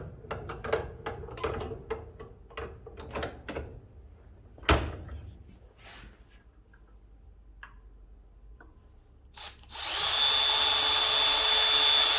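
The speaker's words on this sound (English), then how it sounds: "I can drill my holes." A series of quick ticking clicks and a sharp knock give way to a loud, steady drill whine as the bit bores into wood.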